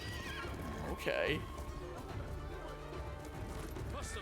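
A horse whinnies loudly and close while hooves clip-clop through a galloping charge in Ghost of Tsushima: Iki Island, with steady game ambience underneath and a brief spoken word.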